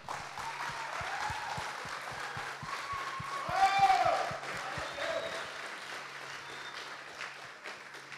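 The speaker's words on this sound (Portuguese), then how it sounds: "Vamos aplaudir o Senhor?" A church congregation applauds during a worship service, a steady crowd clapping that swells near the middle and then settles, with a faint voice and a low rhythmic thump beneath.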